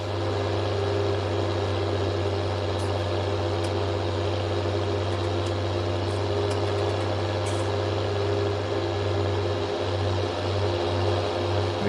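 A tractor engine runs steadily in a farming video game, a loud continuous low hum with a droning idle tone that holds unchanged throughout with no talk.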